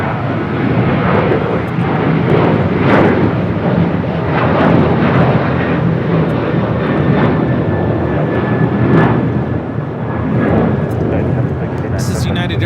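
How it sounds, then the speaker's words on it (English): Loud, steady roar of a United Airlines Boeing 737-800 taking off at LAX, bound for Chicago O'Hare, a continuous broadband rumble filling the whole stretch with faint voices mixed in. "This is United Airlines Flight 1069 taking off to Chicago O'Hare on a 737-800."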